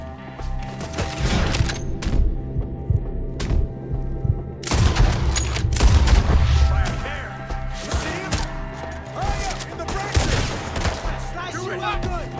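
Red Dead Redemption 2 shootout against attackers in the trees, with repeated gunshots cracking at irregular intervals, some close and loud, others distant, over low rumbling booms, with people shouting and talking throughout.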